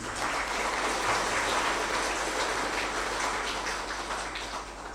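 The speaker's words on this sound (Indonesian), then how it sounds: "Kita berikan aplaus kepada Pak Arifin." A crowd applauds former minister Arifin Tasrif at an official energy ministry gathering, with steady, dense clapping that carries on for the whole stretch with no talk over it.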